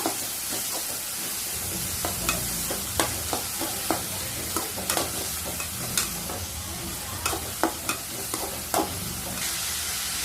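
Finely chopped onions sauté with mustard seeds in hot oil for a drumstick curry, giving a steady close sizzle broken by frequent sharp clicks and scrapes of a spoon stirring against the pan.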